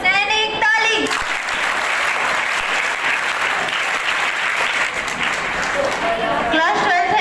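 Dense, loud applause from a large school audience at a Dussehra assembly fills the whole stretch, steady from start to finish, with a voice briefly audible at the beginning and end.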